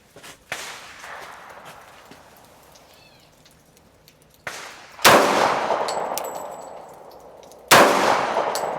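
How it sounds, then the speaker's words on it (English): Three loud, sharp .45 ACP pistol shots from a Heckler & Koch HK45 Compact ring out on an outdoor steel-target range, each crack followed by a long metallic ring and decay, with the later shots louder and closer. "I think it would be apt to mention the Heckler & Koch HK45 Compact, also chambered in the Lord's Caliber 45 ACP. Let's put some rounds down range."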